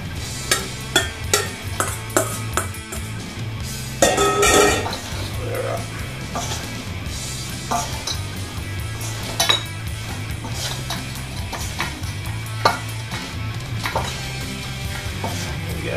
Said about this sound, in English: stir those up, get them really nicely coated